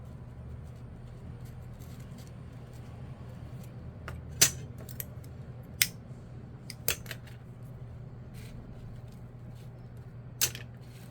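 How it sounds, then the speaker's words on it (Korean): Scissors snipping ribbon for a handmade bear hair pin, a few sharp isolated clicks spaced several seconds apart over a steady low background hum, close and moderately loud. "이걸 이렇게 잘라 주시고"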